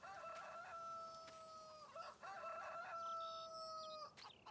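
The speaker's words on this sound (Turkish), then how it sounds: "Horozlara bak sanki sabah oldu mübarek." Roosters crow repeatedly inside a chicken house on a poultry farm, several drawn-out calls overlapping and following one another at close range, loud and steady with no talk.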